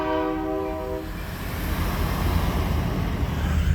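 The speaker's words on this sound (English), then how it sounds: "You hear the train in the background?" A train rumbles past in Coos Bay, Oregon, with a loud horn blast at the start, followed by a steady heavy roar and rattling of cars rolling by.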